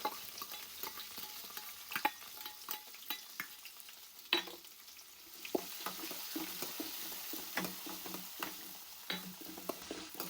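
Chopped onion goes into hot oil with mustard seed, chana dal and urad dal for a tempering for bitter gourd palya, and it sizzles steadily. Frequent stirring clicks and scrapes of a spoon in the pan come through, with no talking.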